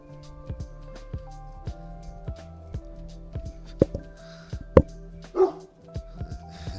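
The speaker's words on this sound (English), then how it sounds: "I'm not even annoyed at you barking no more" A dog barks repeatedly in short, sharp bursts at close range, with a few louder yips and a whimpering note near the end, over a steady low hum in the room.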